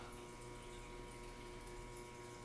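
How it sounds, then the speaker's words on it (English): Running water rinses a towel, a steady, faint, continuous rush of flowing water without breaks or voices. "Rinse this towel."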